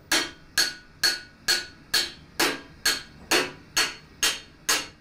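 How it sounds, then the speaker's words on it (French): A goldsmith in a workshop hammers metal into shape, with ten evenly spaced, ringing hammer blows close by, each decaying before the next strike and no voices over them. "on va entendre des coups de marteau et des milliers de coups de marteau pour arriver à lui donner sa forme"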